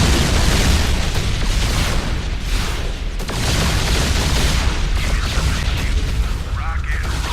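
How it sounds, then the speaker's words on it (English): A Terran battlecruiser fires its Yamato cannon in StarCraft 2, a loud, dense roar of booming blast and rumbling noise that fills the whole stretch without letting up. "A popular choice is the Yamato cannon, which does significant damage to single enemy targets."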